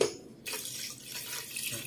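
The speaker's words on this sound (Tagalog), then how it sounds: "Lalagyan natin siya ng tubig" Water pours steadily into a pot, a continuous splashing rush that starts abruptly and stays fairly even.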